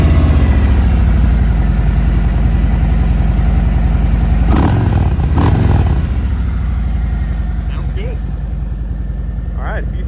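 A 2018 Harley-Davidson Street Glide Special motorcycle idles close by with a steady, lumpy V-twin rumble, with a couple of brief blips midway before it settles back down to a slightly quieter idle.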